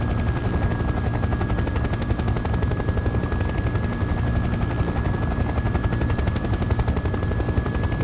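A helicopter flies at night in Farming Simulator 15, its rotor producing a loud continuous rapid chop with a steady whine above, unbroken for the whole stretch.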